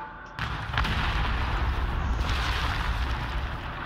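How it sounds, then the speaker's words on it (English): A quarry blast detonation at a rock quarry: a sudden heavy boom cuts in after a short quiet moment, then a sustained loud rumble of rock and debris rolls on without pause. "It's time to detonate."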